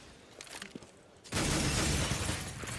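Glass shatters loudly and suddenly partway through a Counter-Strike match, the crash and spray of falling shards filling the rest of the moment after quieter game ambience.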